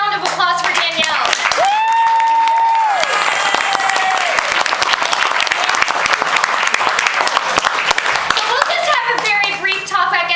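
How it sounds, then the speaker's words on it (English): A theatre audience applauds Danielle after an hour-long dance performance, steady dense clapping filling the room for the full stretch, with a sustained whistle-like tone rising over it early on and faint voices beneath. "So let's give a big round of applause for Danielle."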